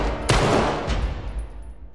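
Gunfire in the Uncharted 3 video game, a loud burst of rapid shots that trails off into echoing reverberation.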